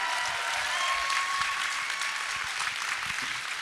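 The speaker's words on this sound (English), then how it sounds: "Give him another round of applause, please." Steady applause from a crowd, dense clapping sustained throughout with no pauses, moderately loud and continuous.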